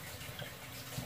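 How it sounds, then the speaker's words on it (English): Kitchen sink tap runs in a steady, soft rushing stream, a brief continuous wash of water at low level with no voices. "I'm just gonna keep the water running."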